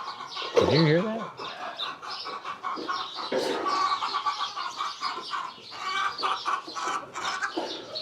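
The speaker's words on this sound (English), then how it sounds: "Nothing like a chicken who's all proud of themselves for laying an egg, huh?" A hen clucks and cackles after laying an egg on a ranch, a loud squawk first and then repeated rhythmic clucking at a moderate distance, with a person speaking softly in between.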